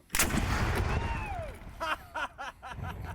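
A single loud, sharp cannon boom opens, its rumble fading as people laugh and chatter nearby.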